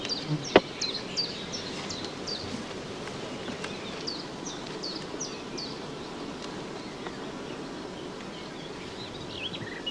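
Honeybees buzz in a steady, soft hum at an open hive during a brood-nest inspection, with faint bird calls and a sharp knock near the start.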